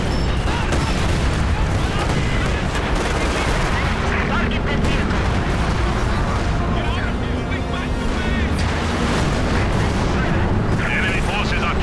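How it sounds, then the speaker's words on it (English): Mortar and artillery fire in a Company of Heroes 2 4v4 battle on the Steppes map, a dense, loud barrage of booms and gunfire layered continuously over the battlefield din, with voices talking throughout. "he really did send his mortars."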